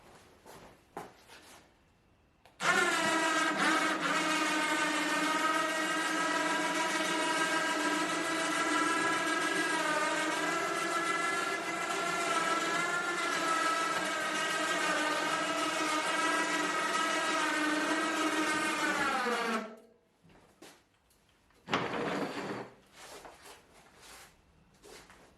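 12-volt electric winch hauling a motorcycle up onto a Phoenix trailer, a loud sustained whine that wavers slightly in pitch for about seventeen seconds, stops abruptly, then gives a short second burst.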